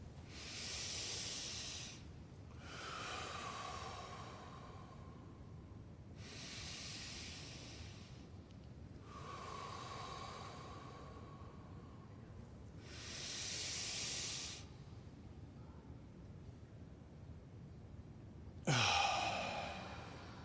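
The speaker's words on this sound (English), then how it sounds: "I'd like to invite us to do 3 deep breaths together." A group takes three slow deep breaths together, each a soft airy inhale followed by a longer sighing exhale, evenly spaced and quiet, with a sharper sound at the very end.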